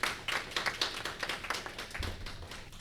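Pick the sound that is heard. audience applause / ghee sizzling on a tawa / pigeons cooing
audience applause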